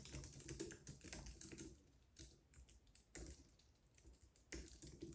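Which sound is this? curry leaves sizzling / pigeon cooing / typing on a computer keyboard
typing on a computer keyboard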